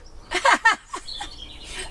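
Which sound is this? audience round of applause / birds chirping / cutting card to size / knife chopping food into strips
birds chirping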